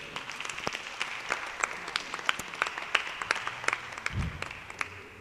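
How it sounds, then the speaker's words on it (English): Audience applause for panelists at a reggae conference session, a steady patter of many hands clapping with individual sharper claps standing out, moderately loud in a hall, with a low thump near the end. "So put your hands together, please, for our panelists here today."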